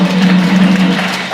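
A church congregation claps together for Jesus in a short, lively burst over a steady low hum.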